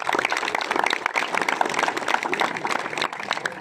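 A crowd at a cricket league final ceremony in Charsadda claps together for the sponsors, a dense, loud, continuous applause filling the whole stretch without talk.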